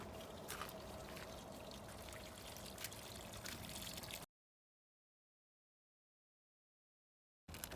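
Water pours steadily from a pipe spring on the Appalachian Trail in Maryland with a gentle splashing trickle, close by, then cuts to silence before resuming briefly at the end.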